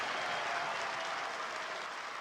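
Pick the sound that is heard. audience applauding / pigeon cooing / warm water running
audience applauding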